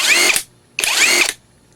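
A cordless 1/2-inch drive impact wrench from Bamse spins freely in reverse twice, each burst a loud, steady high-pitched motor whine lasting about half a second before cutting off, with a short quiet gap between.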